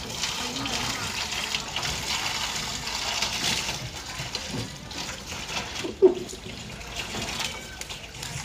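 Water gushes steadily from a pump-fed outlet with a motor running, a broad continuous wash of flow lasting throughout, with one sharp knock near the end and voices speaking in the background.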